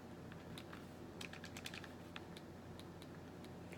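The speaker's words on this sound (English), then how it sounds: "if we type that into our handy dandy calculator" Numbers are tapped into a calculator in quick, light clicks over a steady background hum, close and faint.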